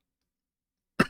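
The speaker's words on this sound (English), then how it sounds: "This stupid cough is so annoying." A single short, sharp cough from a person breaks a silent pause near the end, close and fairly loud, with a quick decaying tail.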